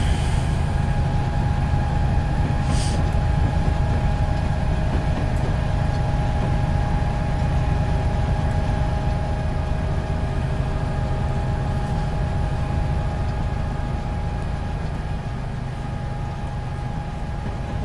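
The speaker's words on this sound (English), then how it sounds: "I don't think we've driven an SD70 in a while, actually." A BNSF SD70ACe diesel locomotive in Train Simulator 2016 on Stevens Pass runs with a loud, constant engine drone and steady tonal hum, with a brief higher hiss near the start.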